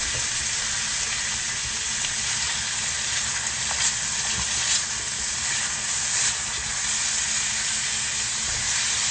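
Steady loud sizzling and bubbling of food cooking, a dense continuous hiss with occasional faint pops.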